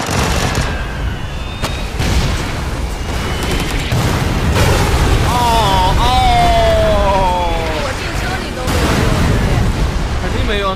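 PUBG bombing-zone explosions in a god-mode custom match, a barrage of booms and gunfire-like cracks mixed with loud, excited voices talking over the blasts.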